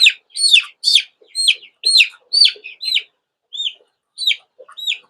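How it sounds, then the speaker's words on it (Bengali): Fifteen-day-old tiger-breed chicks peep and cheep loudly and close by while being caught and weighed, with sharp repeated chirps in quick bursts and short gaps between them. "আমরা আরো কয়েকটা মুরগি বাচ্চাকে ধরেছি এই দুইটা মুরগি বাচ্চাকে আমরা ওয়েট দেওয়ার চেষ্টা করবো"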